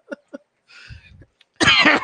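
A few short, close coughs and throat sounds come in separate bursts, ending in one loud, harsh cough right at the microphone.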